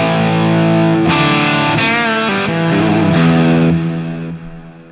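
Electric guitar played through a Flamma FX100 multi-effects unit on its sweet lead preset, a few sustained, distorted lead notes and bends ringing out alone, loud and close, then fading toward the end.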